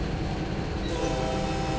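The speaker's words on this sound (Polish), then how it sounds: "Gwizdamy!" Diesel locomotive horn in the Train Sim World 6 game, a GP60M H2 on the Cajon Pass, sounding as a steady, loud sustained blast over a rumbling engine bed.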